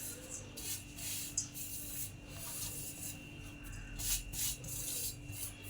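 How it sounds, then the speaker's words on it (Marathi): Cooled grated coconut is crumbled and rubbed by hand into a semolina mixture for karanji filling, giving soft, close, irregular rubbing and rasping sounds, quiet and alone. "आता हे खोबरं आहे ना आपण थोडं असं बारीक करू हाताने"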